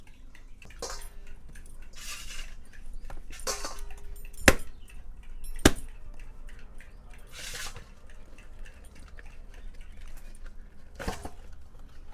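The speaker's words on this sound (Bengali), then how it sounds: "চলুন এবার তালটা গুলে নেব।" Ripe palm fruit pulp is mashed by hand in water in a village kitchen. Close, intermittent wet squelches and sloshing come in soft bursts, with a couple of sharp clinks of a vessel.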